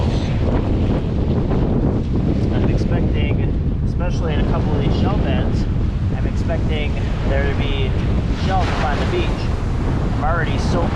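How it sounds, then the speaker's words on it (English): Strong wind buffets the microphone on Navarre Beach, Florida at night, a loud, steady roar with surf and water rushing beneath it, continuous throughout with no break. "And you all know the wind is really blowing."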